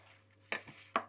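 Rose petals mashed in a pan for gulkand on a low flame, giving two sharp, close knocks of a utensil against the pan over a quiet background.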